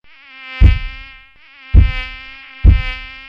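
Mosquito buzzing, a high whining hum that swells and fades, struck by three regular soft thuds of the insect bumping a barrier, loud and close.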